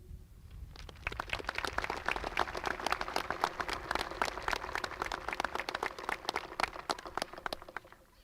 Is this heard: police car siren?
no